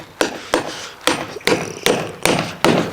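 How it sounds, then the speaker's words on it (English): A hammer strikes a poly pin into roof trim, seven sharp close knocks in a steady rhythm, each with a short ringing decay. "And then what I'm going to do is just hammer that home."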